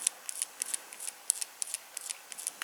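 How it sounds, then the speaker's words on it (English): Fiberglass pencil scraping paint shading off a model, a quick series of short, crisp, faint scratchy strokes in an irregular rhythm, close up with no talk. "Just going to bring in my fiberglass pencil"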